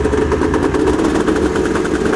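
A snowmobile engine runs after a fuel leak repair, giving a loud, steady rumble with a rapid rhythmic chug throughout and no pauses.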